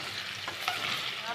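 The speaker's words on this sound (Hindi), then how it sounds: "जिंजर गार्लिक के पेस्ट के साथ भी इसको मैंने 1 से 2 मिनट के लिए अच्छे से फ्राई कर दिया है।" Chicken fries with ginger garlic paste for a Balochi tikka, a short, faint sizzle with a quick stirring scrape partway through.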